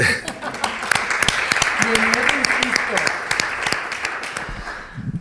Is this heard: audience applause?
yes